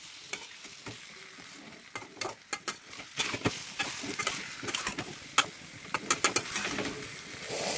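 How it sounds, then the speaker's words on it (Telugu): Fish pieces stirred into frying onions for fish pulusu, a bright close sizzle punctuated by quick sharp clinks and scrapes of a spoon against the pan in an uneven rhythm, no talking. "ఇవి వెళ్ళిపోయాక చేప ముక్కలు వేసి వేసి కలపాలి"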